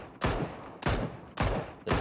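Gunfire in the mobile battle royale game PUBG Mobile during a tournament broadcast: four sharp automatic bursts in quick succession, each a short, crackling rattle separated by brief gaps.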